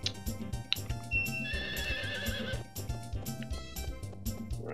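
A horse in the video game Harvest Moon 64 whinnies and neighs in a loud synthesized call over clip-clopping hooves and background game music, with no talking.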